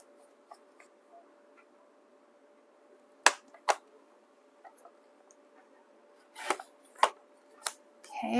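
Scissors snip through a paper hinge for a junk journal, a few sharp isolated cuts spaced apart, then a quicker cluster of snips near the end, close and fairly quiet against a low steady hum.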